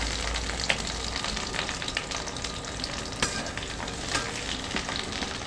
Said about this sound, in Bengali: রসুনগুলো দিয়ে একটু ভেজে নেব। রসুনগুলো একদম লাল লাল করে ভেজে নেব।